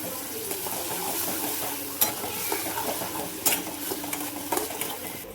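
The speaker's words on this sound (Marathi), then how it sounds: "पेस्ट टाकून घ्यायची याच्यामध्ये आणि चांगलं हलवून घ्यायचं बघा याला।" Spice paste for gatte curry sizzles in a pan under steady stirring, with a soft continuous frying hiss broken by occasional scrapes and clinks of the spoon against the metal.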